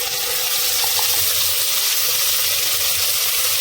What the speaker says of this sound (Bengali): এদিকে যে তাতিয়ে গেছে, এখন এই তাতার ভিতর দিয়ে দেবো মশলাটা।